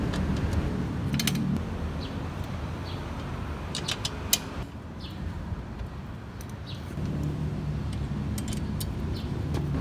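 Metallic clicking and ratcheting of a 14mm or 17mm wrench loosening the chain adjuster on a Rader 150 Fi motorcycle, a steady mechanical working noise close by with scattered sharp ticks and no talking.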